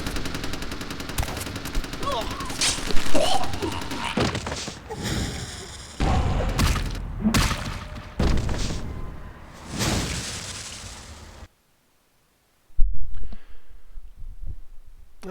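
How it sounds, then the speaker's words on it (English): Gunfire rakes the player in the Vampire: The Masquerade Bloodlines video game, with loud bursts of rapid shots and thuds in clusters, broken by a short silence and then another burst. "Oh, we got raked by bullets there a bit."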